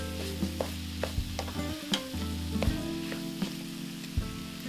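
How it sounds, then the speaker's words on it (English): Chickpeas with nutritional yeast, paprika, red pepper powder and cumin are stirred in a pan, giving a soft close sizzle broken by repeated light spoon scrapes and clicks. "stir until all the condiments are well incorporated into chickpea"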